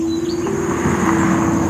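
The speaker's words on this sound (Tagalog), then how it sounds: "Mga huni lang ng ibon ang ating maririnig" Soft bird chirps sound faintly over a steady low hum of background noise, like distant traffic or machinery, beside a deep ravine on a mountain road in northern Luzon, Philippines, with no voices.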